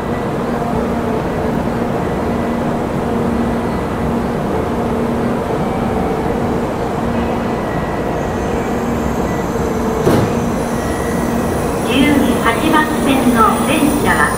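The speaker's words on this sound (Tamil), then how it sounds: "ஏதோ ஒரு புல்லட் ட்ரெயின் வந்துட்டு இருக்குது இங்கே பிளாட்ஃபார்முக்கு." A loud, steady rumble of a Japanese bullet train pulling into a station, with platform bustle and a brief high tone near the end.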